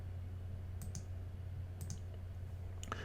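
A computer mouse gives a few sharp, close clicks, spaced in small pairs and singles over a steady low hum.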